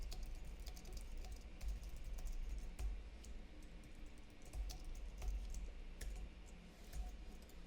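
Quiet, close typing on a computer keyboard, a steady patter of soft key clicks with occasional sharper taps over a low room hum.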